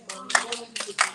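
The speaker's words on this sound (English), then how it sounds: "nous applaudissons, un bel applaudissement pour le professeur Bayyinah Bello" A short burst of audience applause for Professor Bayyinah Bello: a few uneven clusters of hand claps, close and moderately loud, with some voices mixed in.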